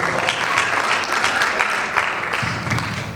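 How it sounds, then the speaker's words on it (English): Audience applause at a live talk, a steady, continuous burst of clapping from a room full of people that lasts the whole three seconds with no talking over it. "I think he deserves a big round of applause"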